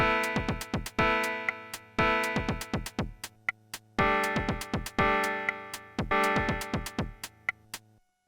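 A beat pattern chain on a PO-33 pocket sampler using Arturia MicroFreak synth sounds repeats over several bars: punchy chord stabs with crisp percussive hits in a steady, looping rhythm.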